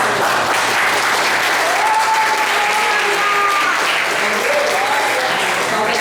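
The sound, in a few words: congregation applause in church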